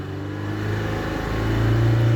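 A Mazda CX-7 2.3 turbo petrol engine with about 170,000 km revs up toward 3000 RPM, a smooth rising hum that grows steadily louder and higher over two seconds.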